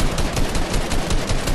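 Rapid automatic gunfire from a Fortnite squad match, a dense, continuous burst of shots filling the whole moment at close range, with no talk over it.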